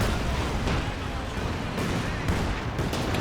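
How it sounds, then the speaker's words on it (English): Katyusha rocket artillery firing in the strategy game Company of Heroes 2, heard as a dense, rumbling barrage of overlapping blasts and launches at moderate level, with a commentator's voice running over it. "Katyusha once again targeting the light artillery."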